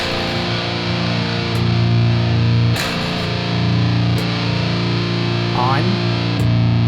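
Electric guitar chugging through a Hughes & Kettner amp with a Precision Drive boost, a heavily distorted, sustained low riff with steady palm-muted rhythm, loud and close, with a brief break and pick scrapes along the way.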